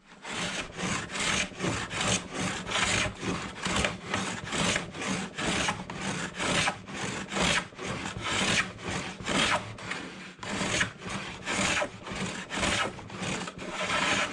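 Carter No.7 jointer plane shaving a wooden board in steady, rhythmic strokes, each a loud, close rasping swish, repeated about two dozen times without a break in the pattern.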